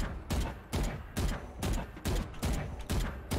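Short bursts of gunfire from counter-strafing in the shooter game Valorant, about seven quick volleys spaced evenly apart, each loud and close, with no talking over them.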